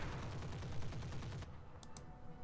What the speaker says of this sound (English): AC-5 and machine guns